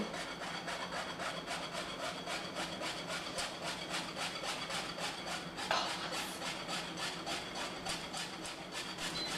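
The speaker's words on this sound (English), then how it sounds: "just use your whisk and just sift it through" Whisk sifting cocoa powder through a sifter for chocolate muffins, making quick rhythmic scratchy strokes at a steady pace, close and fairly soft, with one slightly louder knock near the middle.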